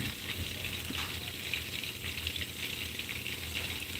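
Garlic shrimp sizzle in a hot pan on the stove, a steady close crackling and bubbling that goes on without a break and stays fairly quiet, with no talking.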